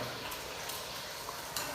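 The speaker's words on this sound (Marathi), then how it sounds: "तळण चालू आहे" Food fries in hot oil with a steady, soft sizzle and a few light clicks and taps, low in level and with no one speaking.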